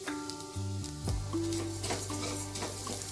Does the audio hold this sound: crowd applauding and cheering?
no